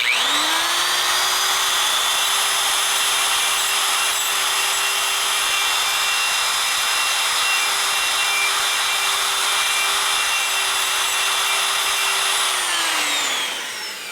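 A power drill spins a bit during repair work on a 1979 93ci Harley shovelhead motor, a steady high-pitched whine held loud and unbroken for about thirteen seconds before winding down at the end.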